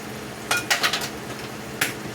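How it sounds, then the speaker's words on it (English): Sausage meat sizzles in a pan during stovetop cooking, a steady faint hiss with a few brief clinks of a utensil against the pan and no talking. "the meat is sizzling"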